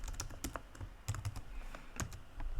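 Code is typed on a computer keyboard as quick, close clusters of crisp key clicks with short pauses between bursts, fairly quiet and without talk.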